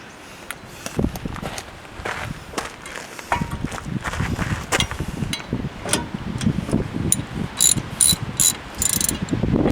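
Ratchet wrench snugging 13/16 bolts on a brake caliper of a third-generation Dodge Ram, heard as a steady run of close, crisp clicking bursts in quick repeated strokes with some shuffling around the work.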